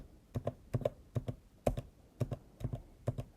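Keys clack on a computer keyboard in paired strokes at a fairly even pace, crisp and close in a quiet room, no talking.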